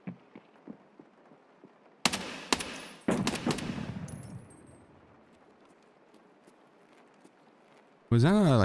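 Gunfire in the shooter game Escape From Tarkov: a few sharp shots followed by a longer burst of automatic fire that fades into a low rumble, then a louder warbling sound at the end.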